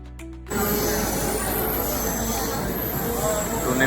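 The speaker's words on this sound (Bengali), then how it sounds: "ট্রেন চলে এসেছে" Train rolling into a crowded station platform, a loud sustained rumble of wheels on rail that starts abruptly after a brief opening of voices and stays steady throughout, with crowd noise mixed in.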